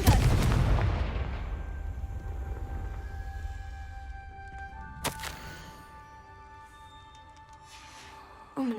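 A Confringo explosion spell in the Hogwarts Legacy video game lands with a heavy boom that rolls off into a fading rumble, then a sharp crack follows midway over lingering ambient tones.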